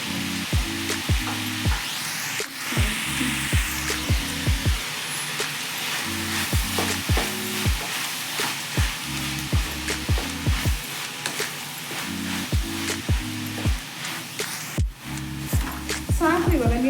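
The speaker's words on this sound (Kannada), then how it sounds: "1-2 ನಿಮಿಷ ಎಣ್ಣೆನಲ್ಲಿ ಚೆನ್ನಾಗಿ ಫ್ರೈ ಮಾಡ್ಕೋಬೇಕು ತರಕಾರಿಗಳನ್ನೆಲ್ಲ." Vegetables frying in oil crackle and sizzle steadily close by, with scraping and stirring knocks through the pan. Rhythmic background music or patterned tones run under it the whole time, and there is no clear talking.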